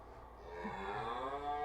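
Cattle moo from a farm pen, one drawn-out low call with a clear harmonic tone that swells and holds toward the end, close and fairly loud with no talking.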